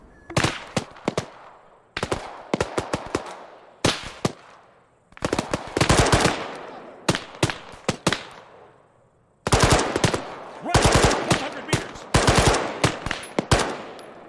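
Machine gun fire in a military combat game set in Chernarus, loud, close bursts of rapid shots in repeated clusters with brief pauses between, no talking.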